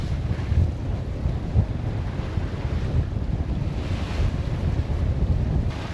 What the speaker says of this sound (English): we're bashing into these waves in front of us